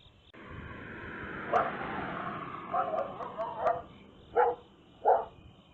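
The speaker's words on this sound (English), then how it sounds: "Our friendly neighborhood dogs discovered that I was out here by the road." Neighborhood dogs bark by a roadside, several distinct woofs coming from some distance over steady outdoor background noise.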